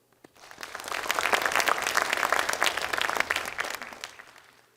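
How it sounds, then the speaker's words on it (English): An audience at a dance performance breaks into applause, a dense patter of many hands that swells quickly, holds steady for several seconds and then tapers off. "Please, a round of applause for her."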